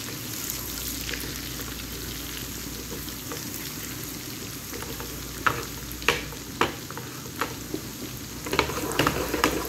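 Garlic and green chilies fry in hot oil for a dal tadka, giving a steady, close sizzle and crackle with a few sharp clinks from stirring.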